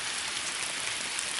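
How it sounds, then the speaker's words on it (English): Heavy rain pours steadily during Hurricane Sandy in Fredericksburg, Virginia, a dense, even hiss of water with no breaks and no voices. "It's raining pretty hard out."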